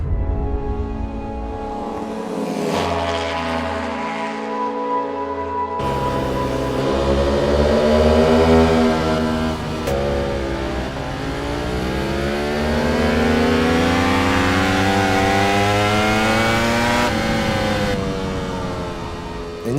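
A Ducati Panigale V4R superbike with a 998 cc V4 engine revs hard and loud, its pitch sweeping up and down through repeated throttle blips with a sharp cut partway through, no talking over it.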